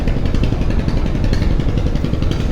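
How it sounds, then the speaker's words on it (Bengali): A small passenger launch, the MV Shampa, running its engine in reverse gear on a river at Barishal: a loud, steady low diesel rumble with clattering mechanical knock, close and constant throughout. "এই যে ছোট লঞ্চ এমবি শম্পা সে আসলে এই মুহূর্তে ব্যাক গিয়ার দিয়ে যাচ্ছে"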